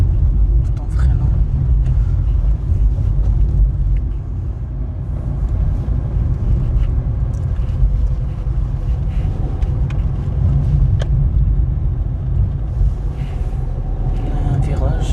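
A car on a driving-test route in Dijon, driving in second gear while braking, a steady loud low road rumble and engine drone from inside the cabin with wind noise, while people talk throughout.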